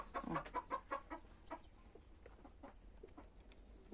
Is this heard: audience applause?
no